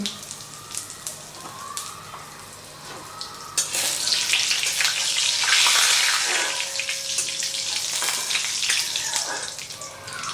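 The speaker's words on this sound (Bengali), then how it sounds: "তেলের মধ্যে দিয়ে দিচ্ছি ফোড়নে গোটা জিরে আর একটুখানি হিং।" Whole cumin seeds and a pinch of asafoetida drop into hot oil for a tempering. Quiet ticking comes first, then a loud, crackling sizzle bursts up and keeps hissing until the end, with no voices.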